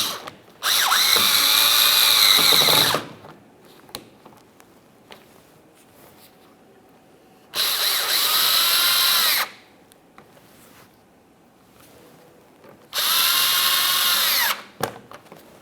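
Cordless power drill driving fasteners into the bumper cover of a 2017-2024 GMC Acadia, three loud, close bursts of high whirring each lasting about two seconds, separated by quiet pauses with faint handling noises.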